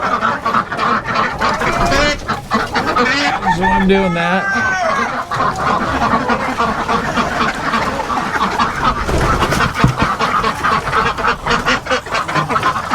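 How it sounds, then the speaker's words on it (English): Chickens and ducks on a farm cluck, squawk and quack close by in a busy, overlapping chorus, with a person talking over the birds at times. "How are my chickens and ducks?"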